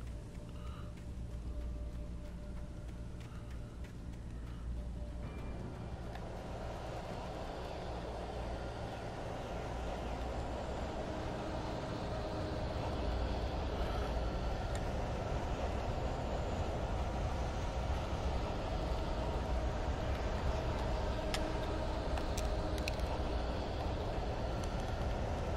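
A train rolls past in Alan Wake Remastered at a train depot, a steady low rumble that swells and fills the scene, growing louder over half a minute with no talk.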